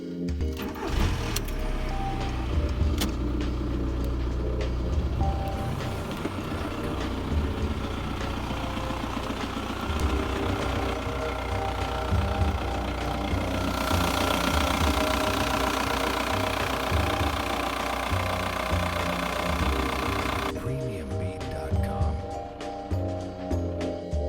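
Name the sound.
VW Polo IV 1.9 SDI diesel engine running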